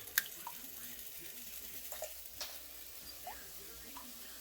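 Low sizzle of toasted flour being stirred with cold chili liquid in a pan over very low heat, a faint steady fry broken by a few soft scraping strokes and a sharp tap near the start, with no talking.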